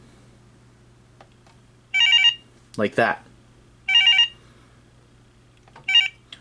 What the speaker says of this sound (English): Hit the find phone button.